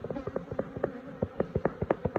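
Honey bees in a hive box, a close buzzing hum overlaid with quick irregular pulses and ticks as insects move about near the frame, with no voices.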